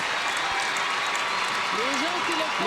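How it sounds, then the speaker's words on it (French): A stadium crowd applauds the Impact soccer team at the close of the season, a dense, steady wash of clapping and cheering with voices rising over it toward the end. "l'annonceur maison qui demande à la foule d'applaudir l'Impact pour saluer cette très belle saison"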